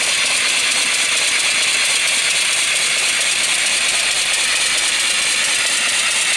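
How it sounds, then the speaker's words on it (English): A small model live steam engine with forward and reverse runs steadily with a loud, continuous hissing chuff and fast mechanical rattle, close by and unbroken throughout. "Really sweet running engine."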